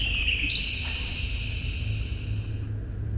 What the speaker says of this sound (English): Hear that chirping.